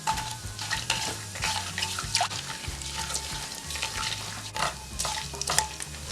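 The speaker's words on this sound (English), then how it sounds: "Fry well." Whole cloves, cinnamon, peppercorns, cardamom, star anise and cumin fry in oil for a Kabuli pulao, giving a steady close sizzle with scraping stirs of a utensil against the pan.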